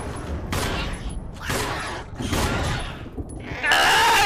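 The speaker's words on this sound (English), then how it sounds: "I was shooting at the floor for my first three shots." Gunshots in the Resident Evil video game fired at the floor, several loud bursts spaced about a second apart with reverberant decay, then a brighter blast at the end.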